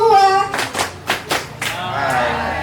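Hands clap in a short series of separate sharp claps during a counted clapping exercise at a community gathering, between stretches of voices, with talk heard near the start and the end.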